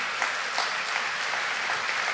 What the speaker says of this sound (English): I'm clearly noticing who is clapping and who is not